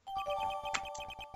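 A short, bright electronic jingle from the courtroom game Phoenix Wright: Ace Attorney marks new evidence being added, a quick run of rhythmic chimed notes lasting just over a second, with no talking.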